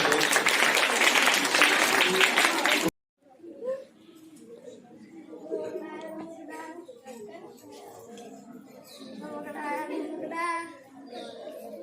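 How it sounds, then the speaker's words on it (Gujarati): Children and adults at a primary school costume event clap in a burst of dense applause for about three seconds, then it stops abruptly and voices follow. "ચલો ભાઈ તાળી વગાડજો"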